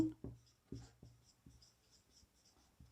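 Writing on a board, a series of soft, irregular taps and scratches close by, faint, with short pauses between strokes and a quiet background.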